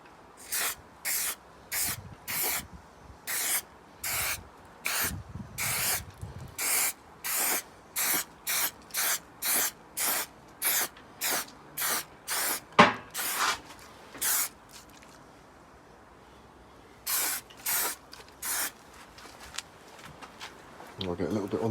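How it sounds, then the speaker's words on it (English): A can of rust converter sprays onto a panel van's inner wing in a long run of steady, regular hissing bursts. The bursts are close and fairly loud, with a short pause before the last few sprays. "We're just going to spray that over everything, and that will leave a nice protection"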